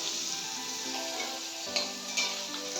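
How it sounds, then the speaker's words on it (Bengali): Bitter gourd with turmeric and salt fries in oil in a wok until reddish, a continuous close sizzle with occasional light stirring clicks, quiet and steady, no voices. "সেটাকে এখন আমি লাল লাল করে ভেজে নেব"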